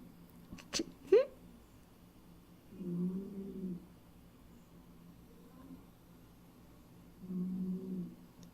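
A pet cat snores softly at close range, two slow low breaths spaced several seconds apart, after a couple of brief sharp clicks or noises at the start, in an otherwise quiet room.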